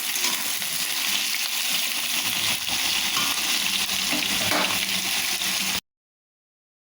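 Potatoes frying in a pan while being stirred, a steady broadband sizzle with scraping and clinks up close, holding evenly for about six seconds before cutting to silence.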